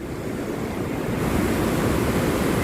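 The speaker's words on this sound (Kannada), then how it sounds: "ಎಷ್ಟು ದೊಡ್ಡ ಅಲೆ ಬರ್ತಾವ ನೋಡ್ರಿ" Large sea waves surge and crash onto the shore in a steady, loud broadband roar with some wind buffeting, no voices over it.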